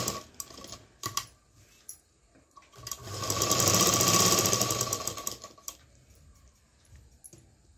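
A sewing machine stitches front tucks on a blouse, with a short run of fast even whirring in the middle, framed by scattered clicks and taps of handling the fabric.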